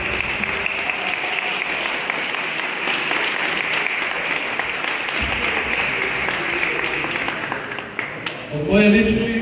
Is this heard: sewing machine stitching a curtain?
no